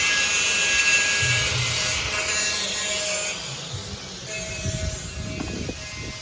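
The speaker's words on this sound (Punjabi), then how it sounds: "ਉਹਦੋਂ ਟਰੈਕਟਰ ਆਇਆ ਆਪਣਾ ਪੱਕੀ ਆਉਂਦਾ" A tractor engine runs with a loud, steady mechanical roar over a low rumble, easing slightly in level partway through and continuing without talk.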